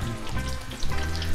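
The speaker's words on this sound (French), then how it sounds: "La viande est en train de cuire lentement," A rump steak fries slowly in butter in a hot pan, giving a dense, continuous sizzle and crackle at close range, with no voices.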